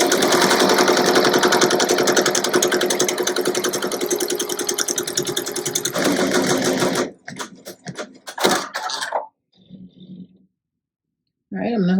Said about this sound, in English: I'm going to press start. And this is the tack down stitch.